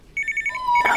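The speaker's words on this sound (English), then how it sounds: "it's only the phone" A telephone rings in a short burst of rapid electronic trilling, close and clear, followed by a brief rising tone.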